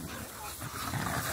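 Dogs at a breeding kennel, panting and snuffling close by in quick rough breaths over a noisy outdoor background.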